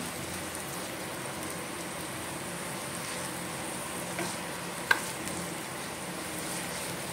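Spice masala with coriander and other ground spice powders fries and is mixed in a pan over a slow flame for stuffed pomfret fry, a soft, even sizzle with one sharp utensil clack partway through.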